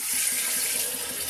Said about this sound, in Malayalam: പച്ചവെള്ളം തന്നെ ഒഴിക്കുന്നത്,